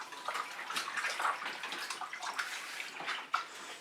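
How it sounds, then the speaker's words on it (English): Water from a tap runs steadily and faintly while paint is rinsed off hands, with soft splashing and gurgling fluctuations and a small splash near the end. "I need to rinse off my hands."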